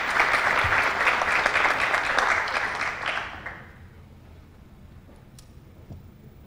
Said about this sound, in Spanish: damos un aplauso ahora a Carlos Martínez